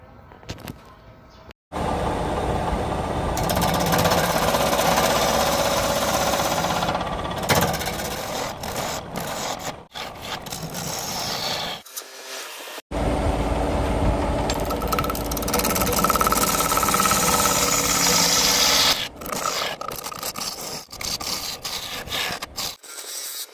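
Wood lathe hollowing out an Arizona ash burl bowl, a steady loud scraping, rasping cut that runs on and off with brief pauses between passes, no talking.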